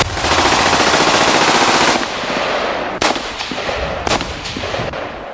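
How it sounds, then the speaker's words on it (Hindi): Rapid, sustained machine-gun and cannon fire from fighter jets strafing an unarmed US spy ship at sea, loud and continuous with dense bursts and a few sharper cracks, no voices. "इजराइल के फाइटर जेट गोलियां और तोप इस अमेरिका के जासूसी समुद्री जहाज पर बरसाना शुरू कर देते हैं"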